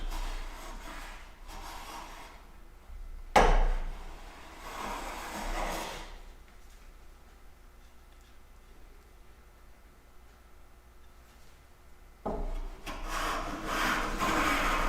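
A hand plane with its blade tilted deeper on the left side takes shavings off wood at a sliding tail vise, in long rasping strokes that come in bursts separated by quieter pauses.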